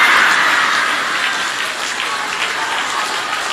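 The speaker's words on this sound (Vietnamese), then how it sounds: "bà vỗ tay lia lịa chứ, bà vui" Listeners at a Buddhist dharma talk applaud in a dense burst of clapping that starts strongest and settles to a slightly softer, steady patter.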